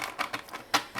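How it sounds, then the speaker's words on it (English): A deck of tarot cards being shuffled by hand, heard close as a handful of quick papery riffling bursts in an uneven rhythm, with one louder burst near the end and no voices. "I'll do one more shuffle here"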